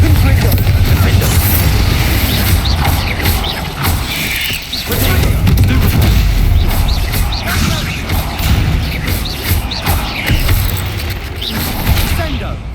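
Magical spell explosions from Hogwarts Legacy, Bombarda and Confringo cast inside a tomb, boom and crash in a dense, loud stream of blasts and clattering debris, with a voice speaking over the action.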